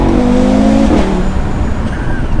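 An Audi RS3 accelerating hard on a back road, heard from inside the car: a loud, rising engine note that climbs through the rev range, breaks off briefly as the gear changes, and carries on with rough road and wind noise.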